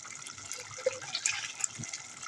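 Onion-tinged water from a small vessel is poured into a cooking pot of chicken, a brief close splashing and trickling with small plops.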